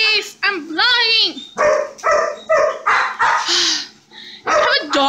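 A dog barks and yips several times in quick, uneven bursts close by, with a person talking over and between the barks.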